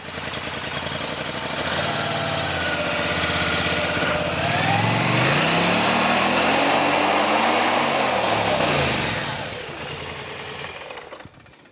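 Polaris engine revving with its primary and secondary clutch operating, a loud, continuous mechanical drone that climbs and falls in pitch as the clutches engage, then eases off near the end.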